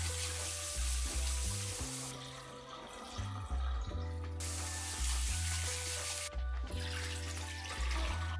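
Aged basmati rice being washed in water in a home kitchen, with repeated bursts of running, sloshing water and pauses between rinses, close and fairly quiet.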